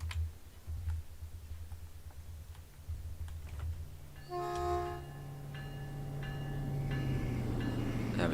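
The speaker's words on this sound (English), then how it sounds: "There's one of the old trains there." An old passenger train on the Peninsula Corridor route in Train Sim World 2 rolls past with a rising rumble and a sustained horn-like tone that builds louder toward the end, with no talking.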